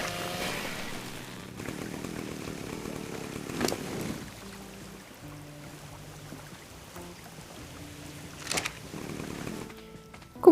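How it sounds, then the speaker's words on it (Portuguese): A chainsaw cuts trees in the video game ARK, giving a few buzzing bursts over a soft ambient background with light tonal game sounds. "depois de um farm bruto com a motosserra"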